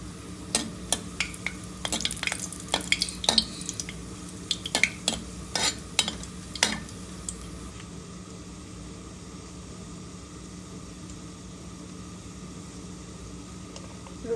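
Dried red chillies and leafy greens fry in a pan for a mixed-vegetable prawn curry, with a steady sizzle under repeated stirring clinks and scrapes of a spatula that stop halfway, leaving only the frying hiss.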